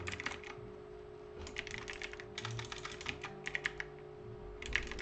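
Computer keyboard keys are tapped in short bursts of quick, light clicks with brief pauses between, close and fairly quiet over a steady faint hum.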